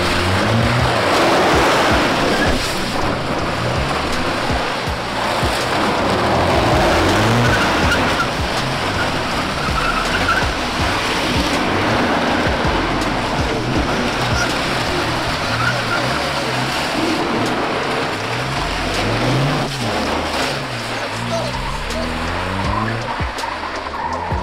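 A front-wheel-drive VW Polo 6n drifts doughnuts in a confined car park, engine revving hard under continuous loud tire squeal and skidding, close and sustained.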